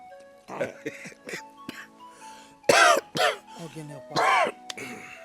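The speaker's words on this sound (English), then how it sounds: "you and this cough, you'll be coughing and coughing." Several harsh coughs in short bursts, the strongest near the middle and end, with gaps and some background voices between them.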